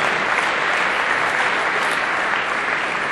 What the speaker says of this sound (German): Ja, gib ruhig einen Applaus für ihn, das wäre wohl richtig.